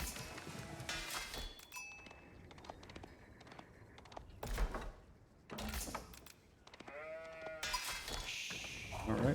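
Sheep bleat in the Age of Empires 4 strategy game, several short calls scattered through the stretch, mixed with game effects and someone talking over them.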